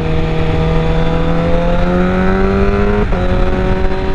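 A motorcycle engine revs loudly and holds a high, steady drone near 6,000 rpm, its pitch climbing slowly before a brief dip as it shifts up, with no one talking.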